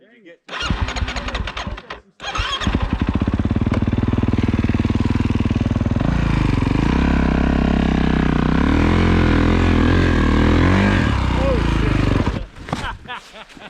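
A snowbike engine roars loudly and steadily through a creek crossing, starting with a sputtering rev, cutting out briefly, then holding a strong, close drone with shifting revs for about ten seconds before dropping away, with voices faintly at the end.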